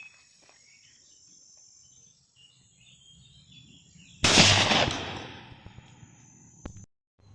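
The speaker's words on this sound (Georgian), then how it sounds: "ვისვრით იგივე ვაზნას." A single loud, sharp blast from a Stoeger M3000 shotgun fired with a standard internal choke, echoing and decaying over about two seconds against a steady outdoor chorus of crickets, with a click shortly after.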